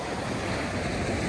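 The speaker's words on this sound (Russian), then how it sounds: "Море спокойное" Calm sea at the Lazarevskoye beach near Sochi on an overcast morning, a steady soft wash of surf and light wind noise with no distinct wave breaks, heard alone without voices.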